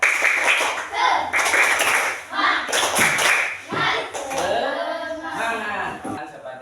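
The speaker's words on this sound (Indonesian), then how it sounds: "Tepuk semangat." A classroom of children claps in a quick, rhythmic pattern, loud sharp bursts of hand claps alternating with shouted group chanting and voices.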